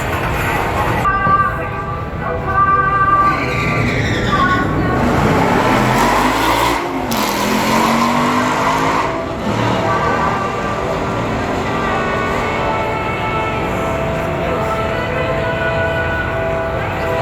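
A Ford Mustang and a Chevy Camaro launch down the drag strip at Beech Bend Raceway, their loud engines rising in pitch through the gears, then fading into a lingering roar while spectators talk nearby.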